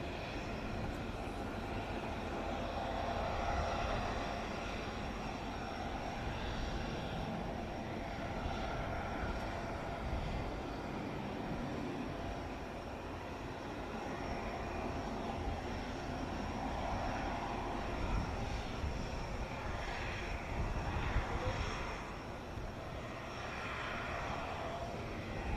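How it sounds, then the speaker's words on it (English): Saudi Airbus A330 multi-role tanker transport on final approach at the Royal International Air Tattoo, its jet engines a continuous distant roar that swells and fades slightly, with a brief louder surge near the end. "The Saudi A330 multi-role tanker transport is now on final approach."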